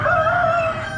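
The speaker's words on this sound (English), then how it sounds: "Big rooster." A big rooster crowing at an Amish animal auction, one loud, close, sustained tonal call with a slightly falling pitch that fades toward the end, no talk.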